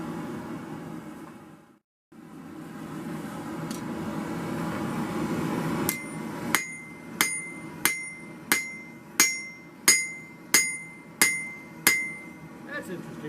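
A blacksmith hammers a flatter on hot steel while forging: a steady background hum and roar, then a run of about a dozen loud, ringing metallic strikes at an even, quick pace.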